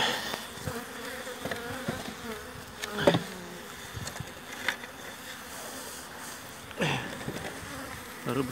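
Honey bees hum steadily and close at a starving hive, a constant buzzing drone with occasional louder passes near the hive.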